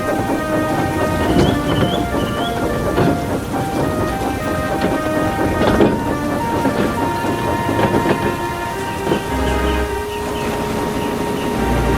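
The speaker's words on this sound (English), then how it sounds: "Mercifully, the rain was light." Steady rain patters and hisses throughout while thunder rumbles low and long in the background, dense and continuous.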